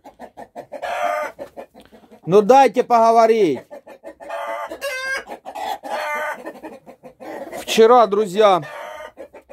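Hens cluck and squawk loudly close by, with a rooster-like call mixed in, while a person talks over the flock.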